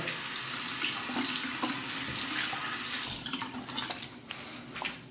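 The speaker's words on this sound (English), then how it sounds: "Final rinse on the razor." Parker 65R razor rinsed under a running bathroom tap, a steady close rush of water into the sink that turns to splashing and knocking as the razor is moved through the stream, with no voices.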